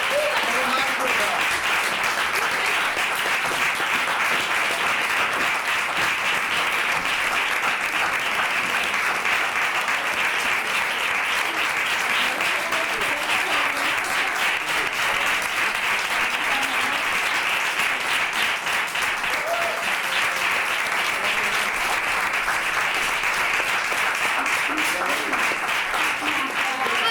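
A theatre audience at a microtheatre session applauds performers, with dense, steady clapping sustained throughout and voices faintly mixed in beneath it.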